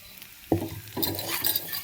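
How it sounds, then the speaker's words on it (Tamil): Flattened rice (aval) roasting in ghee in a pan, starting with a single sharp knock of a spoon against the pan and then a soft, close rustling sizzle as the flakes are stirred. "கண்டிப்பாக நெய்யில் தாங்க வறுக்கணும்"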